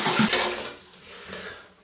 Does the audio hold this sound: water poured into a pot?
yes